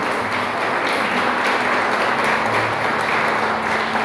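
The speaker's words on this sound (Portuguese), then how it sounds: "Você pode aplaudir o Senhor?" A church congregation claps together during a Lord's Supper service, a steady dense patter of many hands filling the room without a break.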